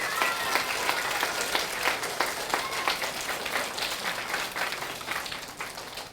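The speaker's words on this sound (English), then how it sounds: "So can you give all of them a round of applause?" An audience applauds at a reading-focused event, many hands clapping in a steady, moderately distant wash, with sharper individual claps standing out and the sound tapering slightly toward the end.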